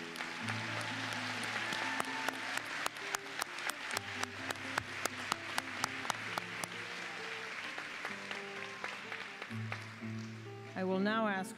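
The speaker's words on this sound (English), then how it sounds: "Let's applaud our social science graduates." Steady applause from a graduation audience for social science graduates at Cégep Heritage College, a continuous patter of many hands. A few sharp, close claps stand out, and music plays faintly underneath throughout.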